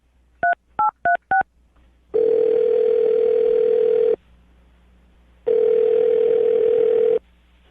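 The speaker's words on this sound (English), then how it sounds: "I'm going to dial the phone number right now" Four quick dialing tones in a row, followed by two long, steady ringback tones separated by a pause of silence.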